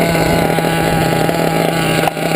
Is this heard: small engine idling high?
yes